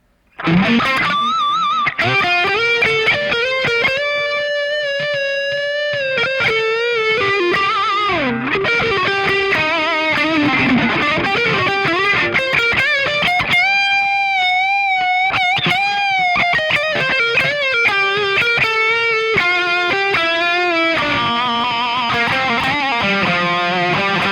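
Heavily distorted electric guitar, a 2012 Gibson Les Paul Studio through a Peavey 6505MH tube amp, playing sustained chords and melodic lines, loud and continuous throughout with a thick, saturated high-gain tone.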